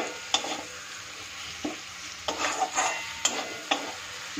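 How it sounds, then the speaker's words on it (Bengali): Turmeric, chilli, cumin and coriander powders being stirred in a frying pan for an egg dish, a soft sizzle under several sharp scraping strokes of a spatula, close and quiet, no voices. "নেড়ে চেড়ে নেব"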